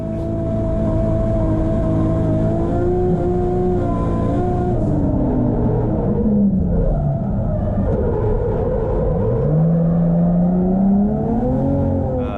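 A drift car runs at full throttle on its lead run at a Driftsouth competition. The engine note is loud and close and holds throughout, with its pitch rising and dipping as the revs swing.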